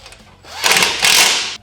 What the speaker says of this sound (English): you're just gonna go ahead and re-tighten this screw right here that you had to loosen earlier